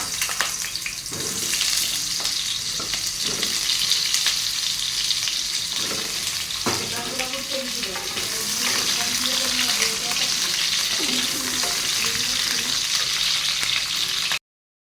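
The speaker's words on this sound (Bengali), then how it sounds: "কড়াতে তেল দিয়ে দিয়েছি, এই যে আলুটা ভেজে নেব" Potatoes frying in oil in a wok, a dense, steady sizzle lasting throughout, with occasional scraping stirs and bubbly crackle growing busier partway through.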